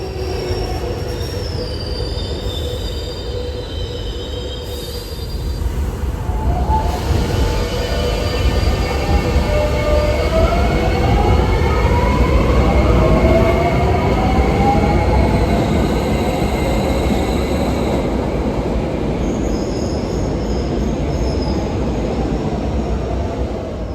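A 25-year-old subway train in Buenos Aires rumbles steadily with loud, rising and falling wheel squeals and screeches, a sustained metallic roar with no voices.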